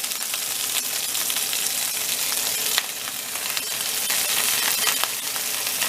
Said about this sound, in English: It's like basically fried cabbage in olive oil.